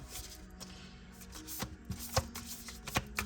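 Tarot cards are shuffled close by, sharp papery riffles and taps in an uneven rhythm, fairly quiet, with no talking.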